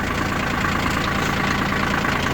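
A Shibaura SP1540 mini tractor fitted with a front loader idles nearby. Its engine gives a loud, steady, even drone with a faint rapid knock throughout.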